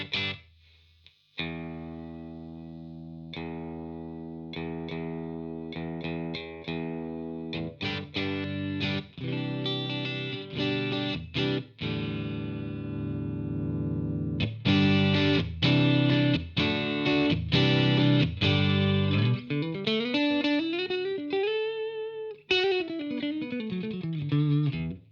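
Electric guitar played through a Marshall DSL20H amp on its classic gain channel, with tone controls at noon and a little gain, sounding as loud, crunchy chords and single notes with sustained ringing and a bending lead phrase near the end.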